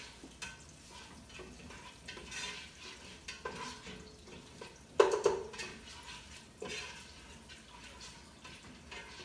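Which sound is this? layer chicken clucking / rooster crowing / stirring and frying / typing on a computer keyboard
stirring and frying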